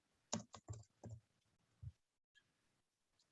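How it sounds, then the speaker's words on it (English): Several quick keystrokes clatter on a computer keyboard in a quiet room, a short irregular burst of taps followed by one isolated key press and a faint pause. "I'm typing a couple more things"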